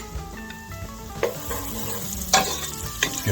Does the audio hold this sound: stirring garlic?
yes